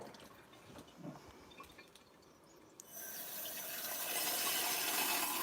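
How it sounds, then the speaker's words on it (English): Water running from a tap into a glass, starting with faint drips and clinks, then a steady, brighter rushing pour that builds and holds for the last few seconds, close by. "Let's get ourselves a glass of water."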